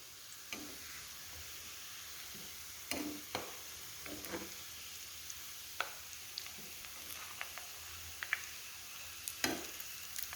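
A semolina snack fries in oil under a soft, low crackle, while sharp clicks and taps of a utensil against the pan mark each flip, scattered and fairly quiet.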